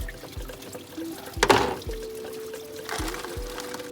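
Engine coolant drains out of a BMW 540i, a steady liquid pour and trickle close by with a brief louder gush near the middle and a few light knocks and clicks from the work on the car.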